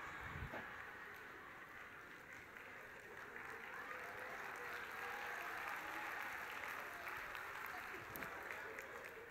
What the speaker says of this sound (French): Non, n'applaudissez pas trop à ça